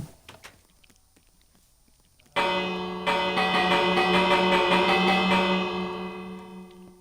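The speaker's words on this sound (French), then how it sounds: "Et si tu joues à la cloche?" A struck bell in the video game Minecraft rings out once with a bright, sustained metallic tone that slowly decays, following a few faint taps and footsteps; a second strike briefly reinforces the ring.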